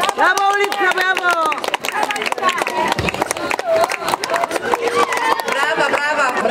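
Applause and cheering from the crowd at a girls' and boys' sabre and épée fencing tournament medal ceremony, loud and dense, with a voice speaking over it throughout.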